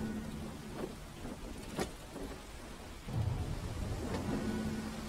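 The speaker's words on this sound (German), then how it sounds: "Alter, ist das ein Sturm, ey." A thunderstorm with steady heavy rain in the video game The Sinking City, with low rumbling thunder rolling beneath the continuous downpour and no voices.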